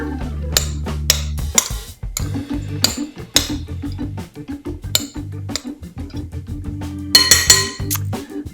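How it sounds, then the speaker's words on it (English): A spoon scrapes and clinks against a bowl while eggs are stirred into a holiday stuffing (dressing) mixture, with irregular close-up knocks and wet stirring sounds and no talking. "So I'm just gonna do one stir here to incorporate those eggs on the bottom."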